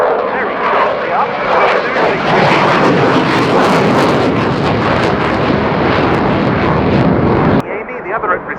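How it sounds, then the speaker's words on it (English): Loud, broad roar of an aircraft flying at the RIAT 2019 air show, swelling and holding through a sharp nose-up pull, then cutting off abruptly near the end into quieter background. "aircraft's nose being pulled very sharply up"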